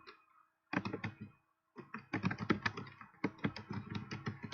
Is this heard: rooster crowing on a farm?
no